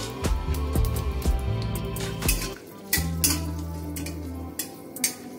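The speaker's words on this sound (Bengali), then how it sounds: "কটা শুকনো লঙ্কা ভেজে নিই" Dried red chillies fry in oil with a soft, steady sizzle, while a metal spatula clinks and scrapes against the pan in scattered, close knocks.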